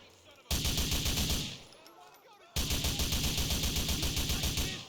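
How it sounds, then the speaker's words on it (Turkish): MP5 submachine gun fire in the GTA Vice City video game, two loud sustained bursts of rapid automatic shots, the first about two seconds long and the second running to the end, separated by a short quiet gap. "MP5'i sıkıyorlar ha"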